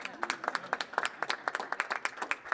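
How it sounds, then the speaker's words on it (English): An audience at a county commissioners' announcement claps in a short burst of distinct, fairly sparse hand claps, moderately close and quiet, with a voice mixed in. "We'll clap for that."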